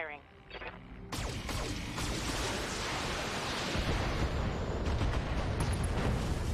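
Mech weapons in the BattleTech video game let loose, starting with a sharp blast and rolling into a sustained, dense barrage of heavy booming fire that carries on to the end.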